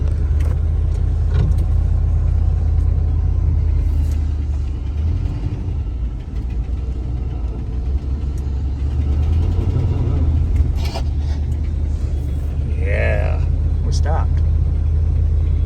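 A 1984 Suburban's engine rumbles low and steady throughout while driving on the road, with a person talking over it.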